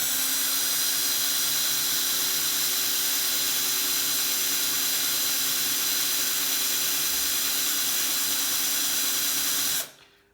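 A continuous high-pitched whine of a small drill running steadily for several seconds, close and loud, cutting off abruptly at the end.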